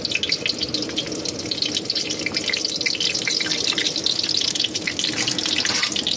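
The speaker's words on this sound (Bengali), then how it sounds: "তো তেলের মধ্যে হালকা পাঁচফোড়ন দিয়ে দেবো।" Light panch phoron spices sizzling in hot oil for a Bengali potato chorchori, a steady close-up hiss and crackle that stays even throughout with no talking.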